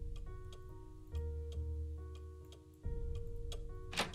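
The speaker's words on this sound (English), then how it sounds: "Love the ticking clock." Clock ticking in the Nancy Drew game Message in a Haunted Mansion, a regular tick-tock of sharp clicks over soft sustained tonal background sounds, fairly quiet and evenly paced.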